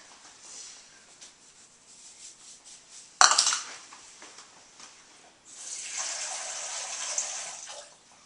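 Water pours from a tap into a measuring cup for homemade English toffee in a home kitchen, starting with a sharp clatter followed by a bright, steady rushing stream.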